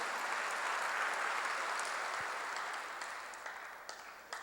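A church congregation applauding together, a dense sustained wash of clapping that slowly fades toward the end with a few last scattered claps.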